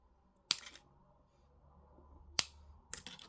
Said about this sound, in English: What I'm going to do is cut this wire